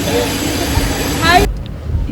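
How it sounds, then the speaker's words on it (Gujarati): Inside a moving, crowded passenger train: a steady broadband rumble of the carriage runs for about a second and a half, then drops away abruptly to a quieter, hollow background. "જીવનમાં પહેલી વાર ટ્રેનમાં જઈ રહી છું"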